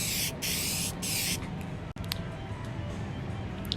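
Repositionable adhesive sprays from an aerosol can in three steady hissing bursts, close and loud, followed by quieter handling noises and a faint tap.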